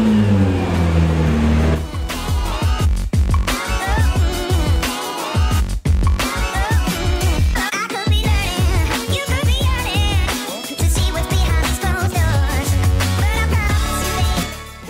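A Nissan GT-R with a 3.8-litre 561 bhp 24-valve petrol engine and automatic transmission revs hard and loud, rising and dropping repeatedly through shifts in a continuous, aggressive roar.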